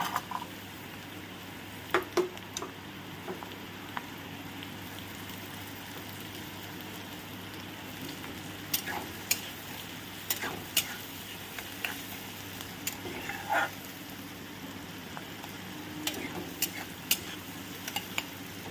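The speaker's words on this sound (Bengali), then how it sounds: "চলো পেঁয়াজটা হালকা করে একটু ভেজে নিই" Chopped onion frying with chilli, garlic and butter in a pan, a steady soft sizzle running throughout with occasional scrapes and stirring clicks, close by with no talking.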